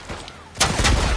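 Gunfire in the video game The Last of Us Part II, a quiet lead-in followed by a sudden loud burst of shots in the second half.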